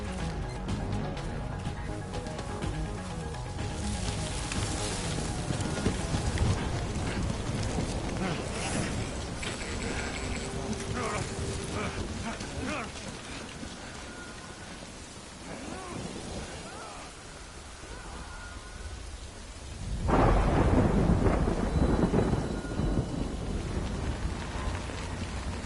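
Rain falls steadily in Death Stranding, a continuous hiss with mechanical rumbles underneath, and a louder low surge breaks in near the end like rolling thunder.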